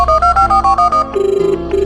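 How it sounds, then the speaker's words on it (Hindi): After a call is dialled, a loud, close run of short evenly spaced electronic tones gives way to a repeating ringing tone on the line, with no voices. "अखिल से रहा नहीं गया और उसने पंडित जी को फोन मिलाया।"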